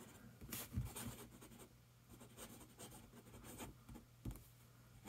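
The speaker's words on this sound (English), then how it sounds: "This is going to be a long writing sample." A brass Kaweco Sport knock-off fountain pen scratches across paper in a long writing sample, with soft close strokes and brief pauses between words, and a few louder taps where the pen lifts and lands.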